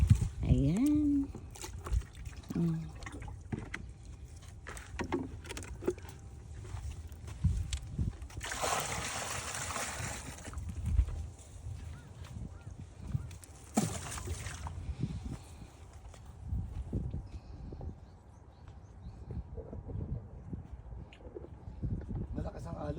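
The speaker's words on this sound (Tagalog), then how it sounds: "Malakas ang alon, no?" Strong waves slosh and splash around a boat, with irregular surges of rushing water, a couple of louder bursts, and occasional voices in the background.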